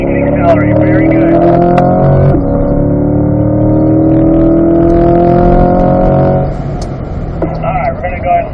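A C8 Corvette at Spring Mountain Raceway accelerates hard, its engine note rising loud and close from inside the car before easing off near the end, while an instructor talks over it.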